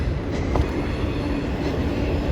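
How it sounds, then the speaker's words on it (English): A train rolls past nearby on a Kansas City street, a steady loud rumble of railcars with faint wheel clatter filling the whole stretch, no voices over it. "I knew I heard a train"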